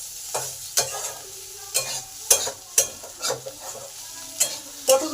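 Potatoes and pointed gourd frying in a wok, stirred with a spatula in about a dozen quick, uneven scraping strokes over a soft, low sizzle, close by and with no talk.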